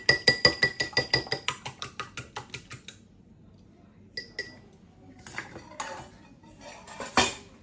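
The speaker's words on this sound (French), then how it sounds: "Un œuf que je viens battre comme ceci" An egg is beaten with a utensil in a salad bowl, giving about fifteen quick rhythmic clinks, then a pause and a few scattered taps and scrapes against the bowl.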